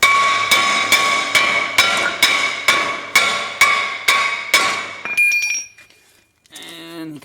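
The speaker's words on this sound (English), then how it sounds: "Just take your hammer and hit it." A rapid series of about ten sharp, ringing metallic hammer strikes on a stuck brake rotor of a Land Rover Discovery 2, at a steady rhythm, followed by a brief clatter and a scraping, squeaky rattle.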